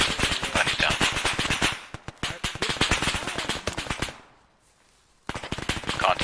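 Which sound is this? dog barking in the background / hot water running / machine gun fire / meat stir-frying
machine gun fire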